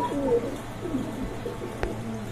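Full Danish pigeons at a crowded pigeon market give soft, low coos in short bursts, fairly quiet under a steady hum of background chatter and noise.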